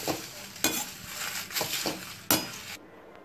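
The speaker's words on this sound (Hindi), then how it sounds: "और इसमें जायफल और जावित्री डाल के भी हल्का सा फ्राई कर लेंगे उसे भी।" Garam masala spices with nutmeg and mace dry roasting in a pan, giving a steady sizzle broken by several sharp scraping stirs and clinks of a utensil, ending abruptly in near quiet.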